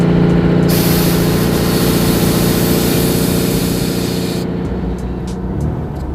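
Air suspension on a customized turbocharged 1967 VW Beetle venting down, a loud steady hiss of rushing air over the running engine for about four seconds before cutting off, leaving the engine rumbling alone.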